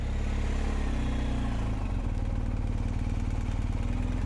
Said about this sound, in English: I will literally just be parking the bike